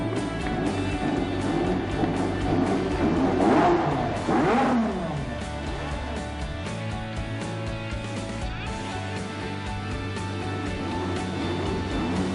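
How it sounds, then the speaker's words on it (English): A McLaren MP4-4 Formula One car engine swells in loud rising and falling revs for a few seconds, then settles into a steady hum with background music underneath. "It's the incredible McLaren"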